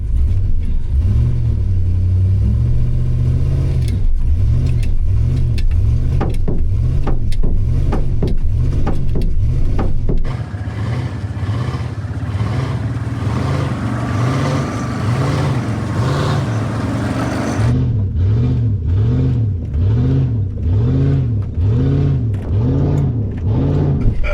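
A pickup truck engine revs hard and accelerates in repeated surging pulses while the driver tries to lift the front end into a wheelie. The loud, rhythmic rises and falls continue throughout, with no talking.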